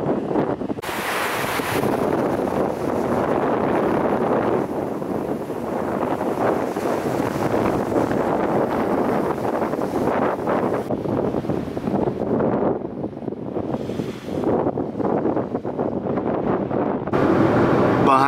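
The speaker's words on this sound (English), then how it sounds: "It's super windy today" Strong wind at a Bahrain seaside beach batters the microphone in a dense, continuous roar, blending with surf and rising in gusts across the whole stretch.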